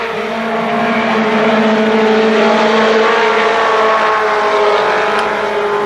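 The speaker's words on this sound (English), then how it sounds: "Green flag does fly, and we are racing once again." Race cars roar around Kil Kare Speedway after a green-flag restart, a loud, sustained engine drone from several cars held throughout, with no talk over it.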